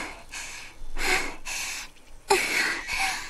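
Heavy, ragged breathing from someone behind, in the visual novel Suika: a handful of loud, close, rasping breaths in quick succession with short gaps between them, and no speech.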